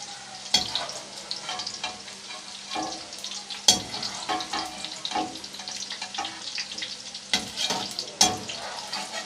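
Chicken frying in spiced oil in a pan for a cauliflower chicken dish, a steady close sizzle broken by sharp scraping stirs and clinks at irregular intervals, with no talk.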